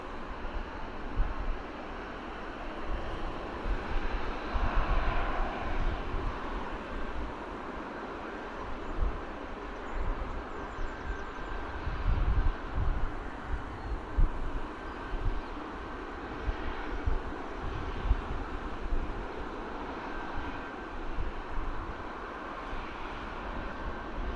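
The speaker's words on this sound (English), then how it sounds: "Jet2 Holiday livery lining up on runway 27 this morning" A Jet2 Holidays airliner lining up on runway 27 at Bristol Airport gives a faint, distant, steady engine rumble, blended with wind noise and soft outdoor ambience.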